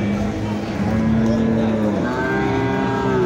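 Cattle moo repeatedly at a busy Mexican livestock market, long drawn lowing calls overlapping one another amid a constant crowd and yard din.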